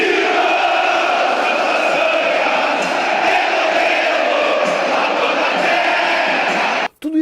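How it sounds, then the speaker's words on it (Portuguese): A large crowd of Grêmio football supporters sings the Rio Grande do Sul anthem in unison, a loud, dense and sustained roar of voices that fills the stadium before it cuts off abruptly near the end. "a geral do Grêmio, a melhor torcida do mundo, cante o hino gaúcho em cima do hino brasileiro"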